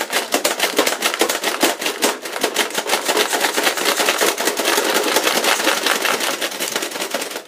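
Nerf gun shooting darts in automatic mode, a long rapid stream of sharp plasticky clicks and pops in steady rhythm, close and loud without pause.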